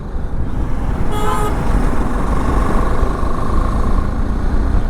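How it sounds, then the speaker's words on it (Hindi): Dense road traffic in Jammu, a steady roar of engines with a brief horn toot early on, close and continuous throughout. "तो ट्रैफिक काफ़ी है जम्मू में"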